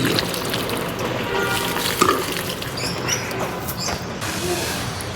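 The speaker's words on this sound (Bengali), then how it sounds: "জল দেওয়া দিয়ে আজকে শুরু করলাম।" Water is poured out for watering, a steady close splashing trickle that runs continuously with a few small gurgles and drips, with no voices.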